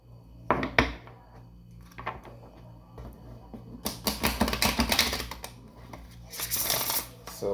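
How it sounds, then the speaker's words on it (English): Tarot cards shuffled by hand, bursts of close riffling and clacking with quieter gaps between them, the busiest stretch coming in the second half. "Let's get the cards shuffled up for you."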